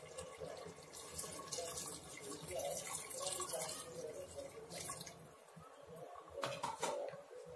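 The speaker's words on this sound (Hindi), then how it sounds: "मैंने थोड़ा गुनगुना पानी किया है एक कटोरी, वो अभी हम डालेंगे।" Lukewarm water runs and splashes continuously into a metal pot of chicken pulao, with a clattering trickle near the end.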